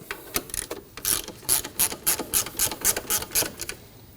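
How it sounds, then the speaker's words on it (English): Rapid clicking of a ratchet tightening the tensioner bolt on a 2003-2006 Subaru Baja engine, about a dozen crisp, closely spaced ratchet strokes in a quiet garage. "To lock down the tensioner, we'll tighten down this bolt."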